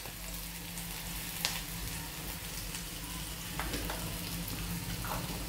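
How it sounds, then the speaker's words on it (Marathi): A pinch of asafoetida sizzling in hot frying oil, a faint, even crackle and fizz with occasional small pops, quiet and steady throughout. "थोडंसं आता मी चिमूटभर हिंग टाकते।"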